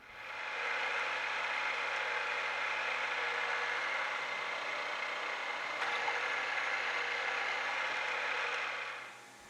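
A short, rigid carbide bit drilling steel for a boot knife, a steady droning whine that holds evenly for about nine seconds, fairly quiet and alone with no voices.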